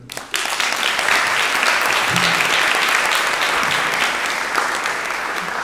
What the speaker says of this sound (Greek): Και εδώ ένα χειροκρότημα.